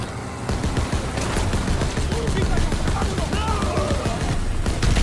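Dense, loud machine-gun fire rattles without pause from a mounted gun on a jeep in the video game Call of Duty WW2, with steady bursts under a busy battle mix.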